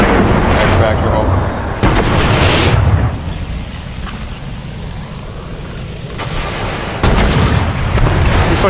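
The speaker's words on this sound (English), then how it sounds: "He's pushing you with rockets right now." Rocket explosions in a Destiny 2 Trials of Osiris match, with loud booming blasts at the start and again near the end, mixed with ongoing game noise.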